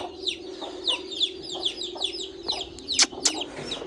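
Desi aseel chickens and their chicks cluck and peep nearby, a steady run of short high chirps and soft clucks repeating about every third of a second, with a few louder calls near the end.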